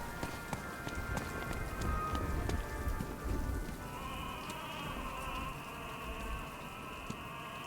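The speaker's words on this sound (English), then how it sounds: "This rain, man." Steady rain pours in the Batman Arkham Knight video game, a dense hiss of drops on surfaces with a faint tonal hum joining partway through, continuous and moderately quiet.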